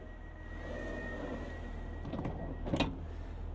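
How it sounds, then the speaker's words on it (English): The external plug doors of a First Great Western Adelante train open near the end, a short mechanical slide and thump over a low, steady hum from the train. "the external plug doors can be opened by simply pushing the illuminated door open button"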